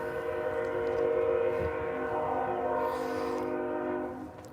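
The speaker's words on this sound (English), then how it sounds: "I love that train." A passing train sounds a long, steady, multi-tone horn over the rumble of rail cars, loud and sustained before fading at the end, heard outdoors at night.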